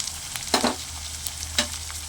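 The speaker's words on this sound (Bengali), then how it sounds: "আদা রসুনের গন্ধটা যাতে না থাকে একটু ভালো করে ভাজা ভাজা করে নেব" Ginger-garlic paste fries in a pan with turmeric, coriander and cumin powders, a constant close sizzle broken by a few brisk scrapes of stirring, with no voices.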